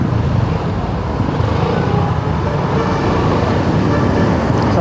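Slow, congested traffic on Quezon Avenue, a dense steady rumble of car and bus engines idling and creeping along, close and continuous with no gaps.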